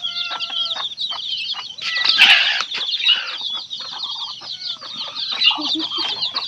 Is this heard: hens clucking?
yes